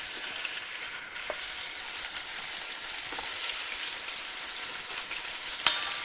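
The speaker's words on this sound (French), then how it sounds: "maintenant le but, c'est de faire revenir la viande" Turkey pieces sizzle steadily in a frying pan for a sauté of turkey, a continuous close crackle of browning meat with a few light clicks of stirring.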